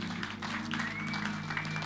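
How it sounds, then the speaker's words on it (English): A congregation clapping together in praise at a prayer service, a continuous wash of many hands with a low hum and a faint tone underneath. "Clap your hands and give God praise."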